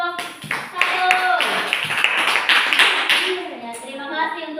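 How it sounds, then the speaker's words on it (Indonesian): A classroom of students claps for a presenting group, with quick rhythmic clapping mixed under excited children's voices and chatter, close and lively. "Semua tepuk tangan untuk kelompok 1"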